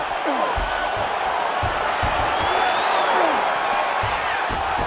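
Steady roar of an arena crowd cheering at a UFC 5 video game fight, loud and continuous through the whole stretch, with scattered thuds and occasional voices on top.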